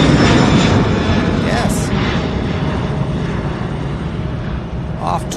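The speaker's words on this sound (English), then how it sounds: "I think we have another takeoff here, you all." A UPS Boeing 767-300 freighter takes off at an airport, a loud, continuous jet roar that fills the whole stretch and slowly eases, with a person talking briefly over it.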